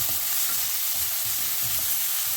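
Tomatoes hiss and sizzle in hot oil in a frying pan, a steady close crackling fry that continues throughout with faint stirring, no talking.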